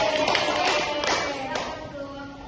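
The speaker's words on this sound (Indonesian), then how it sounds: "beri tepuk tangan dulu pada" Classroom applause for students after an Islamic studies song, a steady wash of many hands with a few louder taps poking through, sustained and fairly close.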